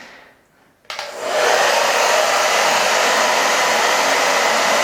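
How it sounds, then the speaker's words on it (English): A blow dryer switched on to high heat, starting after a short quiet moment and then holding a loud, steady rushing roar to the end. "we're going to turn the blow dryer on to high heat"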